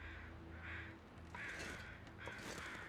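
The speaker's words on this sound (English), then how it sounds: "I hear crows" Crows caw in The Long Dark video game, three hoarse calls spaced about a second apart, faint and distant over low wind.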